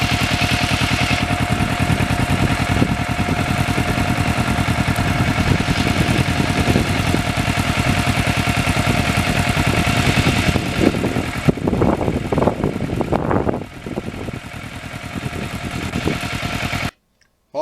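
A restored Kawasaki Ninja motorcycle engine droning steadily while riding country roads, loud and constant under wind rush, with some rougher pulses near the end before it cuts out.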